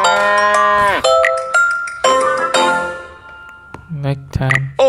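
A cartoon cow in a mobile game moos in long, loud, tonal calls while being milked, with a clink and short game sounds near the end.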